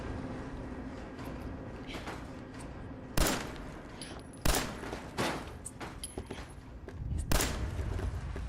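Gunfire in Fallout 4, scattered single shots and quick bursts cracking over a rumbling background, several loud reports spaced a second or so apart.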